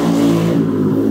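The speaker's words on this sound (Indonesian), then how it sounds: "Wah, suara motor." A motorbike engine hums past close by, a steady mid-pitched drone with slight revving and clatter over about a second.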